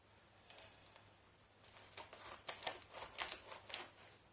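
A knife saws through a round of soft, fluffy bread cooked in a frying pan, giving a quiet series of crisp crackling strokes that grow denser and louder toward the end, close and alone.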